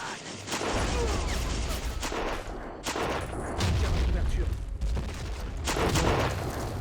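Rapid gunfire and grenade blasts in the World War I video game Battle of Empires: 1914-1918 form a loud, dense, unbroken barrage of shots and thumps with no pause.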